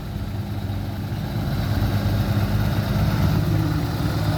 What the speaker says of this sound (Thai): ขับรถไถเองเลย